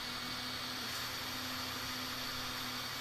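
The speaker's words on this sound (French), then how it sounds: "on entend le petit ventilateur ici en route" Small cooling fan spinning inside an LED daytime-running-light car bulb of the P21W type gives off a steady, faint, close hiss with a thin constant whine running under it, and no voices.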